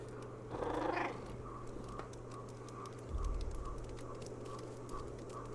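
Low continuous purring from a stray cat outdoors in green, rain-freshened surroundings, soft and steady, with a couple of brief louder rustles or bumps partway through.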